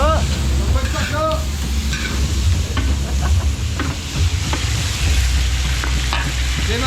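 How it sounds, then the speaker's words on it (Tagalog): Garlic and onions sauté in a large catering pan, hissing and sizzling steadily up close while being stirred, with a few voices talking in the background. "Papupulayin lang natin bawang sibuyas."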